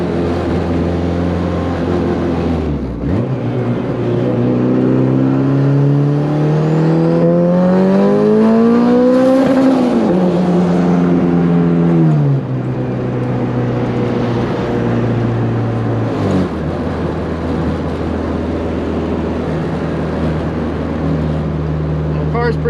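A turbocharged Honda B20 car engine climbs in pitch as it accelerates hard, then drops off and settles to a loud, steady drone close by.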